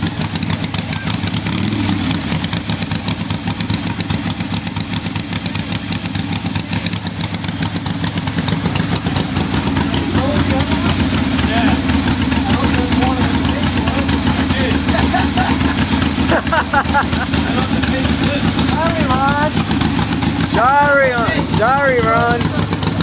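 A new motorcycle engine idles close by with a steady, rough rumble while people talk and call out over it throughout, with some whistling near the end.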